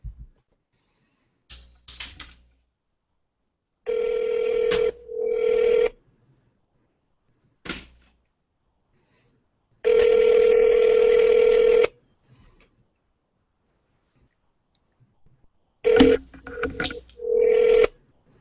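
A phone call placed on speakerphone: bursts of DTMF keypad tones and steady ringback tones repeat in separate blocks with silent gaps, loud and close, with no talking.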